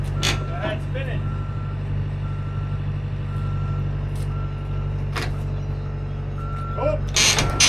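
Truck backing up, its reversing alarm beeping at a steady spaced rhythm over a low idling diesel rumble, with brief clanks and occasional voices in the background.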